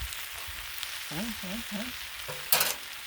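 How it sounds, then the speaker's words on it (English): Homemade ghee sizzling on a Blackstone griddle alongside mushrooms and collard greens: a steady close hiss with a few short warbling tonal chirps partway through and a sharper crackling burst near the end. "So, just a little bit of ghee going."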